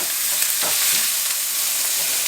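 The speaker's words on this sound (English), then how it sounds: "I'm going to add just another tablespoon of olive oil and let them keep cooking" Chopped onions frying in olive oil in a pan give a steady, bright sizzle. A few soft stirring scrapes break through it, and no one speaks.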